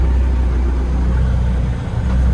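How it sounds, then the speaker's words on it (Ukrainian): Kubota KL-41 tractor engine running steadily as the tractor turns almost in place, a continuous close low rumble with no talk. "тут взагалі трактор розвертається практично на місці"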